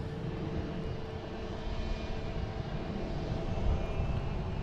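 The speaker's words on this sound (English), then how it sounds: "Next takeoff is Delta." Delta airliner taking off at Boston Logan airport, a steady broad engine roar that swells slightly as it goes, heard from a distance with no voices.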